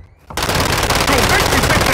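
Sustained automatic gunfire erupts after a short quiet moment in a Call of Duty Modern Warfare battle, a loud, continuous burst of rapid shots filling the rest of the moment without any voices.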